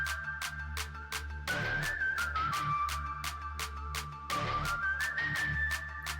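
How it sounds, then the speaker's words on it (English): Flute or pipe melody from the intro of Dreamcatcher's 'PIRI' music video: a bright sustained tone sliding between held notes over a low drone and sharp regular percussive clicks, with no talk. "a flute, like a pipe"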